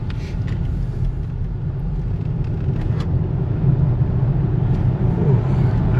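Interior of an electric car on the move, a steady low road rumble and tyre hum with a faint motor whir swelling slightly as it accelerates, no one speaking.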